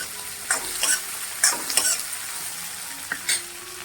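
Garlic and ginger fry in a pan for a mixed sprouts usal, giving a steady soft sizzle broken by several sharp scrapes and taps of a stirring spoon, close by and without talk.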